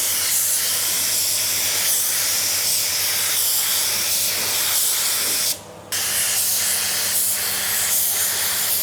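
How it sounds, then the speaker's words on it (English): A spray gun lays clear coat onto a car panel in a steady, continuous hiss held close to the microphone, with a brief break partway through before the spraying resumes. "I really like the way this gun sprays clear."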